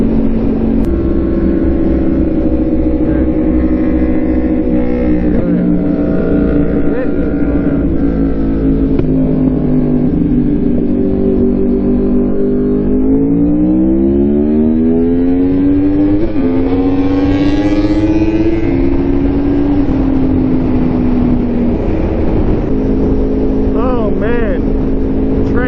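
A 2016 or 2018 Yamaha R1 sport bike with a new ECU flash tune pulls hard at full throttle, its engine note climbing loud and close through rising gears with shifts along the way.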